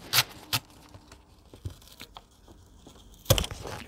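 Paper for a handmade envelope notebook being torn: a few short, sharp rips close by, one early, one soon after and a louder, longer tear near the end, separated by quiet handling noise.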